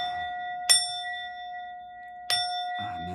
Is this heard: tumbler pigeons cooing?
no